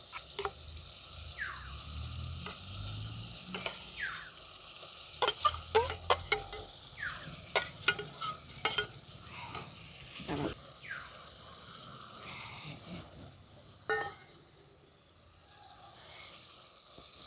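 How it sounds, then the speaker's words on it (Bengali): Coriander leaf and green chilli paste fries with spices in a pan for a sweet-sour-spicy coriander pickle, with a soft steady sizzle broken by irregular scraping stirs and clinks, close and moderately quiet, over a faint background hum. "এবার এই ধনে পাতাটার সঙ্গে সমস্ত মশলাগুলো খুব ভালো করে আমি মিশিয়ে ভাজা ভাজা করে নেব।"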